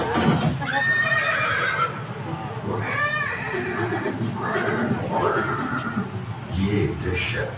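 Horse Chetak, Maharana Prapat's loyal war horse, neighs and whinnies amid hoof clip-clops, with a long whinny near the middle, all layered under background music and an ongoing voice.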